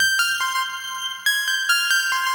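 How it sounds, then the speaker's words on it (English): A bright synth pluck preset in FL Studio plays a short melody with reverb, clean notes struck at a steady pace, alone with no talk. "So then I added this pluck right here"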